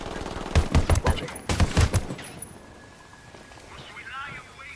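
Bursts of rapid gunfire in Ghost Recon Wildlands, several loud close volleys in the first two seconds, then quieter ambient game sound.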